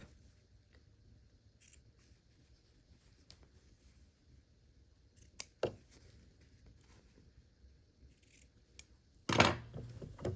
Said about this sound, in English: there's this little bit overhanging. I just cut that off